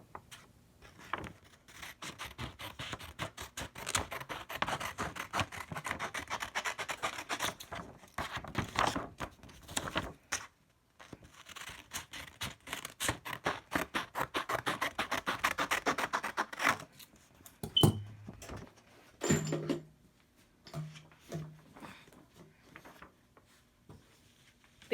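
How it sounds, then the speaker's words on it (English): Scissors snip away excess sublimation transfer paper from the top and bottom of a printed image, a steady run of close, crisp paper cuts and rustles with brief pauses. "I cut off any excess paper at the top or the bottom"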